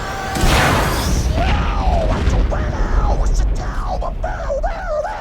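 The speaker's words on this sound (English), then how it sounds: "This is the vault, by the way. The vault opening." A vault opens in the Borderlands 2 video game with a loud booming burst and rumbling mechanical crash that fades into ringing tones, while people talk over it.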